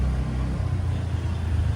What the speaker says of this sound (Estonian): miks nad sõida autoga siin väikses tänavas sõidavad